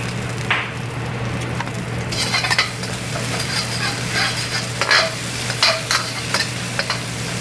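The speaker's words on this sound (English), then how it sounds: "I want to soften the onions up a little bit, but don't let the garlic burn." Onions and garlic sizzle steadily in a wok for fried rice, with a spatula scraping and stirring in repeated close strokes over a constant low hum and no voices.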